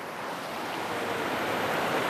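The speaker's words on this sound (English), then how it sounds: "this is straight white water" Rushing white water of a flooded trout river pours steadily through pocket water, a loud, continuous broadband roar close by with no break.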